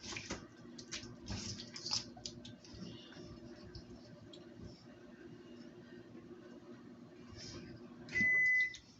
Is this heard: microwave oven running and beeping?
yes